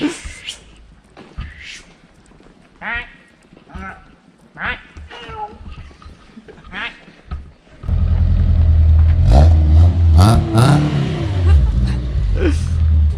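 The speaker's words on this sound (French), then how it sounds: "Petite bagnole comme ça qui fait des bruits." A small car engine revs loudly and close after a stretch of quieter, squeaky chirping noises.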